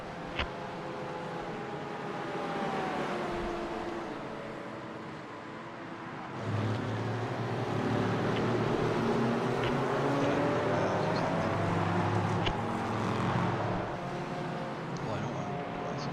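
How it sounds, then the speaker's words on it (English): LMP3 prototype race cars passing at Barber Motorsports Park during an IVRA Clubsport round, a broad steady engine roar that swells louder midway and holds, with faint voices mixed in. "Here come the LMP3s."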